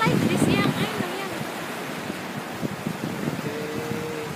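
Wind and surf at Pancer Puger beach at dusk, a continuous rushing wash of waves and breeze buffeting the microphone, loudest at the start, then steady; a faint hum of boats may sit underneath.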